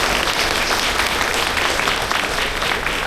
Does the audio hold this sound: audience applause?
yes